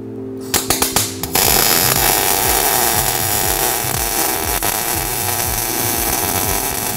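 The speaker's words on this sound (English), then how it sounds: "we're going to go ahead and weld them on the housing" Dana 44 axle housing getting axle gussets welded on, a steady loud crackling buzz of arc welding that runs continuously after a few short taps and clicks at the start.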